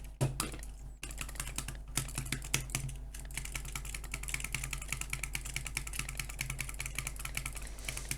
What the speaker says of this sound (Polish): jak to słuchacie, klikam tą myszkę